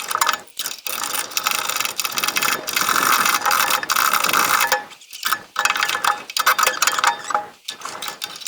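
Ratcheting and mechanical clicking while a bolt is unscrewed from the front A-arm of a Kawasaki KRX 1000 UTV, a steady run of close metallic ratchet noise broken by short pauses.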